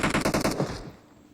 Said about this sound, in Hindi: अभी फायरिंग की अच्छी खासी तगड़ी साउंड आ रही है